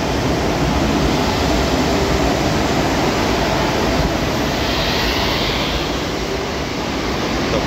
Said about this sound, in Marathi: हे आपल्या ट्रेनचं इंजिन जे पुढे होतं आता तिथून निघालं आहे